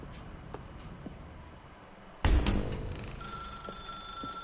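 A telephone rings in The Stanley Parable video game, starting suddenly partway through with a loud, sustained electronic ring that holds steady against a quiet room-tone background.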